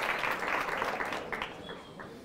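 Brief applause from a studio audience for a school team on a televised quiz show, a soft patter of clapping that fades quickly over about two seconds.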